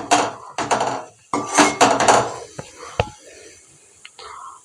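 A spoon scrapes and clinks against a pot while fish curry is stirred, with a few sharp taps spaced apart after an opening stretch of soft, murmuring voice-like sound.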